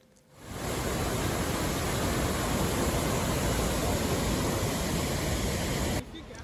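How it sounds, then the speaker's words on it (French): Roar of the Zongo waterfall, a dense, steady rush of falling water that swells in within the first second, holds loud and unbroken, then drops back sharply near the end. "Après une petite randonnée dans la nature, on découvre enfin les chutes de Zongo."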